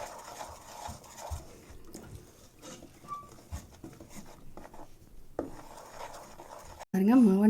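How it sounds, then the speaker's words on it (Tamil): A spoon scrapes and stirs adhirasam dough in a pan, making soft, irregular rubbing strokes with occasional light knocks, and a brief louder sound cuts in at the very end. "மாவை நல்லா மிக்ஸ் பண்ணியாச்சு"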